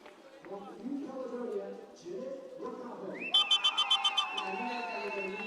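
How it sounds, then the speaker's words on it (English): A starter's whistle at an athletics track during the Pacific Mini Games 100m heats blows in a rapid series of about six loud, sharp pips followed by a sustained tone, over a commentator's voice and crowd noise. "Whistle's going up for Bianca Sharpen from New Caledonia."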